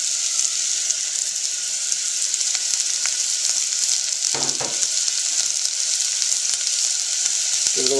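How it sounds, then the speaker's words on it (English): Garlic and onions sauté in olive oil, giving a steady bright sizzle throughout, with a few scraping stir sounds near the middle and end. "while that is sautéing"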